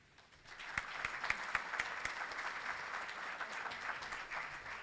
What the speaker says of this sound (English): Let's give another big round of applause for all the scholarship recipients.